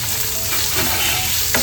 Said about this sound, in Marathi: कांद्याचीच मस्त आपल्याला फोडणी द्यायची